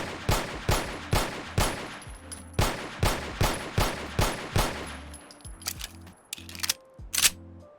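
A custom 10mm pistol fires in Fallout 4: about nine sharp, evenly spaced shots ring out loud and near, followed by several mechanical clicks and clacks of handling.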